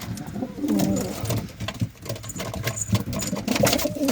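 A feather-footed wild pigeon coos close by in soft, repeated throaty calls, with a low mechanical hum and scattered rustling in the background.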